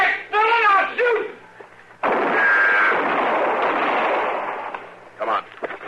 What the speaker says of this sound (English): Dillon, I'll shoot.